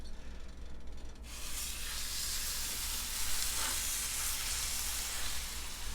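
Pork chops hit hot oil in a pan and break into a loud, steady sizzle that swells after a second and keeps hissing close up.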